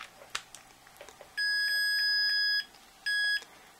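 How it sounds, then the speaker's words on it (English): A Fatshark AttitudeSD head tracker on FPV goggles chirps as it initializes: a long steady electronic tone about a second long, then a shorter second beep after a brief gap, loud and clean over faint room noise. "So those beeps are just an indication of the head tracker that it is initialized."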